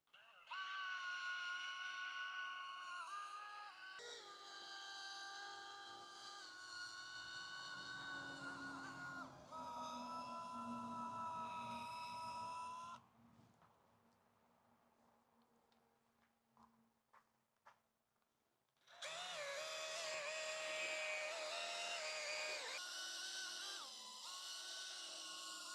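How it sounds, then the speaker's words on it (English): Power polisher working on a scratched motorcycle windshield at its lowest setting, a whining, slightly wavering tonal drone that runs for long stretches, stops for several seconds, then resumes loudly. "let's start polishing. So I have it to the lowest setting possible."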